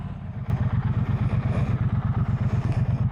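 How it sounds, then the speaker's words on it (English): A Triumph Bonneville Bobber motorcycle rides along with a loud, close, pulsing engine throb in a steady rhythm throughout. "the Triumph Bonneville Bobber"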